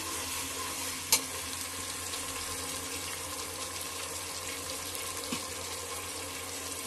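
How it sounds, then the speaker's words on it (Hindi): Steady frying sizzle of onions with ginger garlic paste fills the clip, with a brief clink near the start and faint stirring, no voices. "इसीलिए जरा सा देखिए इसे भून लेते हैं अच्छे से"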